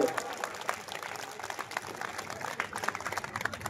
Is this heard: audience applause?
yes